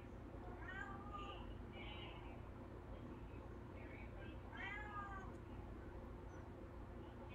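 A house cat meows indoors, two distinct drawn-out calls about four seconds apart, fairly close but soft over a low steady hum.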